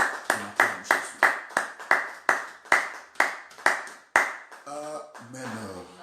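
A church congregation claps in steady unison during a Sunday service to acclaim Jesus, about ten loud, evenly spaced claps in a room, followed by voices speaking and singing.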